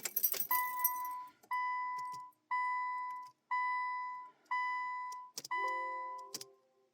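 Subaru ignition being switched off during a CVT valve body replacement, with a run of evenly spaced electronic chimes or beeps, about one per second, close and clear in an otherwise quiet cabin, ending with a brief rattle of keys.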